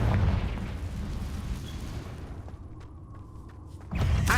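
Confringo fire spell blasting in the Hogwarts Legacy video game, a broad rumbling explosion that rolls out and decays over a few seconds before a second burst hits near the end.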